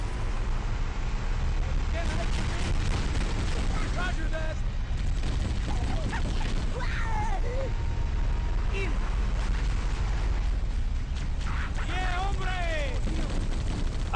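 Rumbling gunfire and explosions around a Covenant dropship in Halo: Combat Evolved, a dense continuous battle din with chirping weapon effects layered on top, steady and loud throughout.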